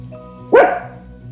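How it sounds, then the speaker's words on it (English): A dog named Baxter gives a single sharp bark, close and loud, over a quiet steady background hum. "And excuse Baxter for barking."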